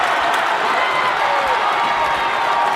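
A loud, steady roar of a home crowd fills a high school basketball gym during a free throw, with cheering and shouting blended into a constant wash of noise and no pauses.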